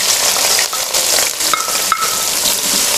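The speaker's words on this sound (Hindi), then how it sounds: "हमारे जो प्याज हैं वो फ्राई हो रहे हैं" Chopped onions and cumin seeds frying in hot oil for a Hyderabadi chicken biryani, a dense steady sizzle close up with a few light clinks of a spoon against the pan.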